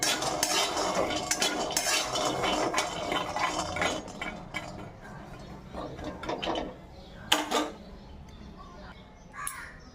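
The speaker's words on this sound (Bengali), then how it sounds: "চলো এটা ততক্ষণ গুঁড়ো করি" Smoothie ingredients being ground into powder, with clattering metal-on-dish scraping and rattling, dense at first then thinning into separate knocks and clinks.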